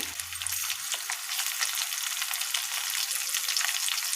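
Sliced green chillies sizzle in hot oil in a pan for carom-leaf rice, a steady close crackling hiss with brief stirring scrapes and no talking.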